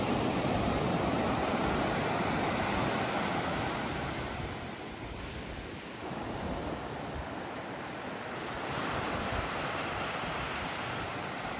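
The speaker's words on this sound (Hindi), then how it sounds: "वही पैटर्न लहरों का, वही एक के बाद एक लहरें आ रही हैं" Arabian Sea waves break one after another in a continuous, steady surf roar that swells and dips slightly midway. Nobody speaks.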